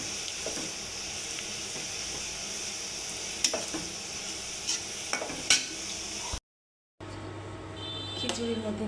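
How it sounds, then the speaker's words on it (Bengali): Onion and garlic frying in a pan for khichuri, a steady close sizzle with a few sharp spatula clinks. A brief silent gap follows, then the frying resumes with a voice talking over it. "আর একটু ভাজবো যাতে ঘ্রাণটা ভালো আসে।"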